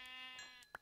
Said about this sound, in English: Sheep, give me some minty lamb chops,